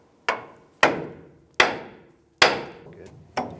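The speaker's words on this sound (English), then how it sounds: "use a hammer, and we're going to strike the knuckle right here to release the outer tie rod end" Hammer blows on a steel steering knuckle of a 2000-2006 Toyota Tundra to release the outer tie rod end: five sharp, loud metallic strikes spaced unevenly, each ringing briefly before fading, with no voices.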